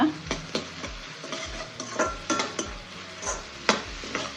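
Onions with salt stirred in a hot pan with a spoon, sizzling steadily while the utensil scrapes and clinks against the pan in a quick irregular rhythm, close and clear with no talk.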